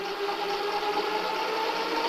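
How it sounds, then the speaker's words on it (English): Dual Bafang e-bike hub motors, 1500 watts, run at full throttle in mode 1, giving a steady, loud whirring whine that holds an unchanging pitch throughout with no voices. "let's hear how it sounds at full throttle on mode 1"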